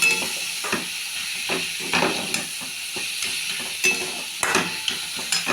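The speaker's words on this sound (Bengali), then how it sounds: "আর এদিকে আমার বড়াও হয়ে গেল প্রায়, লাল লাল করে ভাজছি" Bora lentil fritters frying in a pan of oil, a continuous close sizzle and hiss with repeated light stirring scrapes and clinks of a utensil against the pan.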